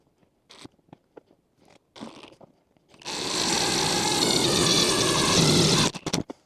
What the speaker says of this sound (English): I'm using the impact driver for this because I was too lazy to switch out to the drill